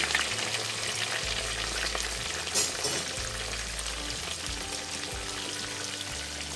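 Pounded chicken breast cutlets fry in a pan, giving a steady, close sizzle and crackle with faint stirring sounds and no voices.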